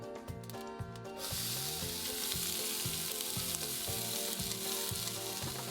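Diced onion and ground cinnamon frying in a pan, a steady close sizzle that swells after a quieter first second, with a repeating rhythmic pattern running underneath.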